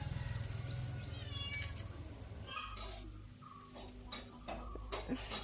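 A cat meows a few times close by, its cries rising over a steady background hum and scattered clicks.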